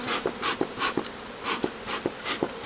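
Honeybees, many of them young nurse bees, hum in a steady, pulsing drone at an opened hive, close and fairly loud, with no voices.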